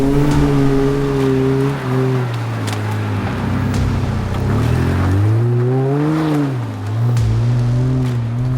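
Off-road vehicle climbing a clay hill out of a valley, its engine revving hard and rising and falling in pitch as it surges up the slope, loud and close throughout.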